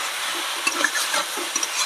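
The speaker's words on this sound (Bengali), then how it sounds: "এইভাবে কষিয়ে নেব।" Cabbage stir-fried in a pan in a village kitchen: continuous crackling sizzle with quick scraping stirs and light clinks of a utensil against the pan, close up, with no voices.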